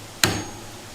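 A single sharp metallic strike as a hammer taps a flathead screwdriver to snap the tang off a Heli-Coil insert in a Harley-Davidson handlebar riser hole, close and loud with a short ringing decay.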